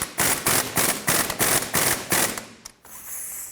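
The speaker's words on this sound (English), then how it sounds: "what I'm going to do is actually just run it down with my air gun and make it nice and tight" An air impact gun hammers a crankshaft damper bolt on a Pontiac G6 in a rapid series of loud, close bursts, then stops, leaving a fainter hiss.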